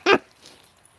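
A puppy lets out a single short, sharp yelp close by, followed by near silence.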